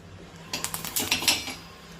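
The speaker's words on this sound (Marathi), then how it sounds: "ह्या इथं थोड्या थोड्या मिरच्या कट करून घ्यायच्या आहेत" Green chilies being cut into small pieces on a board with a knife in a home kitchen, a quick run of sharp close taps and clicks in the middle, with quiet before and after.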